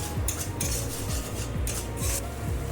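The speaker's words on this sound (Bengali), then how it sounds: "এই মশলাটাকে সবার সঙ্গে এখন 2-3 মিনিটের মতন কষিয়ে নেব।" Masala made with Kashmiri chili powder and mustard is stirred and fried in a pan for a mustard-poppy rohu dish, with a steady spatula scraping in repeated strokes over a continuous low sizzle, close and fairly loud, with no voices.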